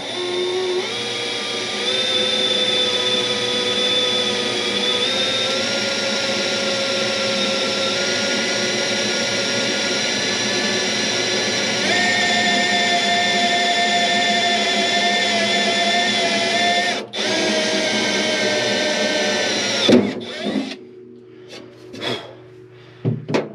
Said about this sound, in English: we'll go in with a 3/16 drill and drill this out.